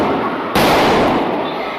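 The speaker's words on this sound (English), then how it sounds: "Gunfire interrupting a quiet church service." A sudden, loud, sharp gunshot-like crack bursts out of a quiet church service in Texas during a shooting, its reverberating noise lingering about a second afterward.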